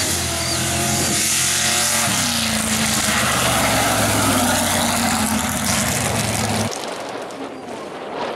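A black Ford Bronco truck launches at a big-block truck drag race, its engine roaring loud and sustained as it pulls away, holding a heavy drone before abruptly dropping off near the end.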